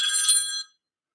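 A telephone rings for an incoming call, a bright electronic trill lasting about two-thirds of a second before cutting off into silence, heard clearly on its own.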